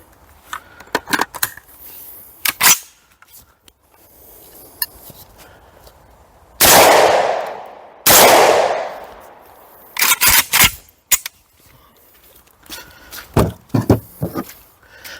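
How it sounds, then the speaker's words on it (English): Kral Arms XBS 12, an AK-platform magazine-fed shotgun, fires two loud slug shots close together near the middle, each with a long ringing decay, among scattered clicks and handling noises before and after. "this is the Kral Arms XBS 12, which is magazine-fed section 1 shotgun. It's based on the AK platform, and in this one I'm going to be shooting slugs."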